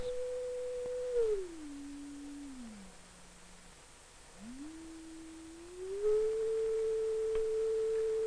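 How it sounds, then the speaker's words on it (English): A clean, faint sine tone from an oscillator holds steady, glides down in steps, drops out briefly, then sweeps back up and settles at a higher steady pitch. "We'll generate the tone in this oscillator."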